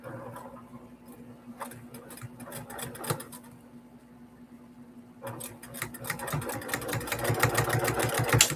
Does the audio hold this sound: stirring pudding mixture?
no